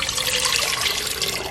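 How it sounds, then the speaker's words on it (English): Water pours steadily into a cooking pot in a continuous splashing stream, a bright hissy flow filling it, with no talking. "And first in my pot, I'm just gonna add some water."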